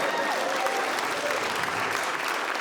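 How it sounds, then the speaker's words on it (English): Comedy club audience applauding a stand-up comedian, a dense, even burst of clapping from the crowd, somewhat distant and moderate in level, sustained for a few seconds. "You can applaud."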